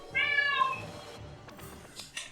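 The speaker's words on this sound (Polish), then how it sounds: "Jak kot miałknie, to go zabije." A cat in Luigi's Mansion 3 lets out one clear, close meow, followed by softer game noises and light clicks.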